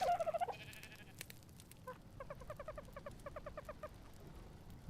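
Sheep in ARK Survival Ascended give faint, quick bleats. A wavering cry opens, then rapid clusters of short repeated bleating calls follow over a soft background.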